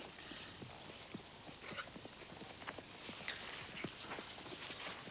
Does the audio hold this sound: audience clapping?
no